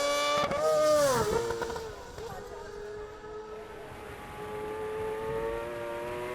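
Racing sidecar outfits passing along the start-finish straight at Cadwell Park, with loud high-revving engine whines rising and falling in pitch as machines pass, and a commentator's voice over the top.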